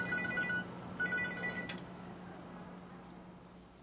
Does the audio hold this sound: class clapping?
no